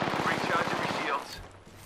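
Knuckle Cluster ability firing in Apex Legends, heard as a rapid burst of loud popping shots for about a second that gives way to a quieter rumble and a brief whoosh.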